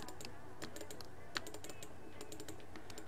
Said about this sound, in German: Sorry, dass ihr meine Maus und Tastatur hören müsst.